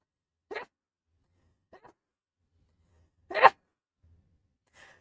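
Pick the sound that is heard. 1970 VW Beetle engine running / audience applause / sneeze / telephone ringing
sneeze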